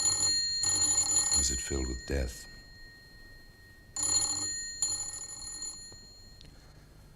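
A telephone bell rings in bursts through an empty house in a 1952 radio crime drama, ringing twice with a gap between, while someone speaks over part of it.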